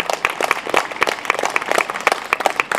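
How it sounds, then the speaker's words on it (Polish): Audience applause at a final concert of a music festival in Szprotawa: a steady patter of many hands clapping, moderately close and fairly loud, with no voices over it. "wielkie brawa dla Mai."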